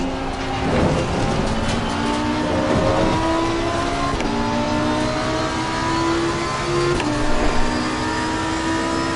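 Lamborghini Huracan Evo 2 race car in a racing video game, engine droning steadily and revving through repeated rising gear pulls, loud and continuous for the whole stretch with no talk.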